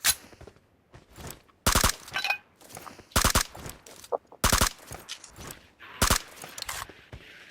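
Separate single gunshots ring out one at a time in a shooting video game, each a loud sharp crack with short gaps between them, alongside softer game clatter and footstep-like noises.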